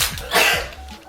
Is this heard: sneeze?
yes